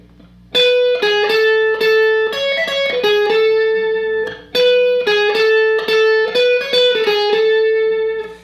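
Dry, lightly distorted electric guitar plays the main riff of a song, a repeating melodic line of quick plucked notes and slides, loud and close, with a brief pause midway before the phrase repeats.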